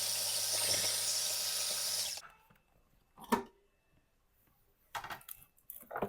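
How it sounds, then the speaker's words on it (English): A food processor whirs steadily while pureeing a crab mixture with eggs, then cuts off abruptly, followed by faint scraping and clattering sounds. "we're going to puree it again for 2 minutes until it's smooth and shiny"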